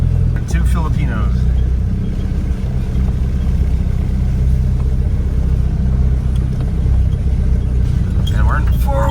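A pickup-type vehicle loaded with wood, sand, gravel, a bag of cement and two passengers crawls along in four-wheel-drive low, giving a steady low engine rumble and road noise throughout, with voices talking over it.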